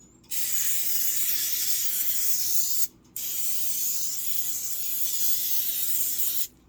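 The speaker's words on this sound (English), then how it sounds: "So I sprayed them with the pan spray" Cooking pan spray hisses from an aerosol can onto eggplant slices in two long, close bursts with a short pause between them, and no talking over it.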